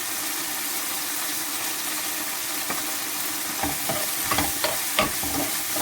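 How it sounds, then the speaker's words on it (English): Chicken pieces sizzle in a hot pan, a constant bright frying hiss, with scraping and clattering of stirring growing more frequent toward the end. "I'm frying the chicken first"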